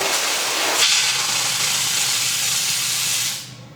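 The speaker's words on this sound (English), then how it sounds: "the steam and the pressure finds its way out through the steam gun" Steam jets hard from the steam gun of an Optima Steamer XDM steam car-wash unit, a loud, steady hiss that sustains without a break for about three seconds and then cuts off abruptly.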